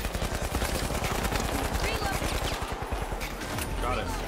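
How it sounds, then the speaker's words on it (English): Automatic gunfire erupts during a match of the shooter game The Finals. Dense, rapid-fire bursts rattle along steadily, loud and close, then thin out toward the end amid other game noise. "Keep shooting. I'll cover you."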